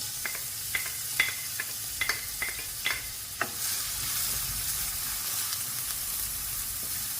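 Onions drop into hot oil and fry with a bright, continuous sizzle, punctuated at first by several sharp pops and spatters that settle into a steady hiss, heard up close with nobody speaking.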